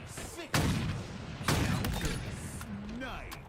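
Sniper rifle shots in Halo Infinite, two loud booming reports about a second apart, followed by quieter game sounds and talk.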